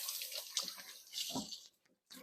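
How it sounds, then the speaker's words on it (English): Tap water runs and splashes briefly during hand washing, a close, soft gush that stops abruptly near the end before resuming. "I'll wash my hands."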